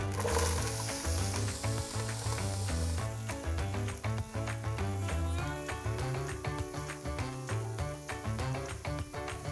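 Onions sizzling and frying in a pan, a steady crackling hiss with dense pops throughout, fairly close and continuous.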